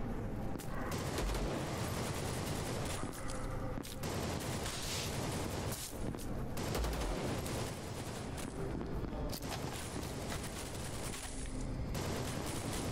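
Heavy machine gun fire in the VLADiK BRUTAL shooter game, a dense, continuous barrage of rapid shots and explosions that fills the mix at a steady loudness, with brief dips in intensity.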